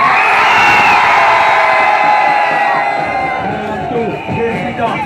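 A large crowd at a political rally in Bonaberi, Cameroon, shouts and cheers loudly and continuously, with whoops rising above a dense roar of many voices that eases slightly toward the end.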